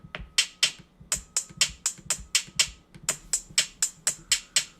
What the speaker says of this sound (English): And an even higher pitch is the hi-hat.